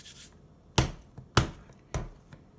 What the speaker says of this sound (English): I tuck the sides up and then just flip it over and tuck a few times